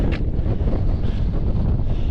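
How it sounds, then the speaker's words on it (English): Strong wind high up at Dale Head Tarn buffets a GoPro microphone fitted with a wind sock, a constant low rumble and roar, close and loud, no voices. "The higher up I'm getting, the more windy it's becoming."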